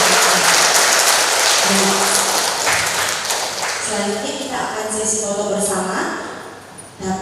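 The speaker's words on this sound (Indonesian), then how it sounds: "Boleh kita tepuk tangan dulu untuk Pastor" A seminar audience claps for a priest, a loud, sustained round of applause with voices talking over it throughout.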